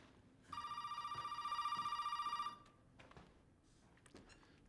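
In the video game Resident Evil 7: Biohazard, a telephone bell rings in one sustained electronic trill of about two seconds, moderately loud, then stops and leaves faint rustling and quiet room noise.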